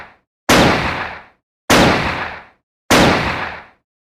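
Three loud, close gunshot effects fired at an even pace about a second apart, each a sharp bang with a ringing tail that fades out, nothing else heard between them.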